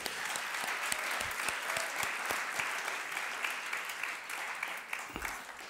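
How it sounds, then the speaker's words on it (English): Delegates at a regional fellowship conference clap together, a steady roomful of hands with a few sharp, close claps standing out, moderately quiet and continuing for several seconds. "I would like to clap for us for making it."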